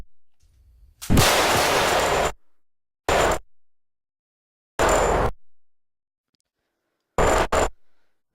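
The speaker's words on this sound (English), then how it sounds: "so now we have our clip and our sound effects for the gun" Four bursts of gunfire sound effect, each a sharp loud blast with a decaying tail, spaced irregularly with silence between and the last a quick double shot.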